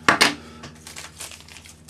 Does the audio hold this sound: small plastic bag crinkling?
yes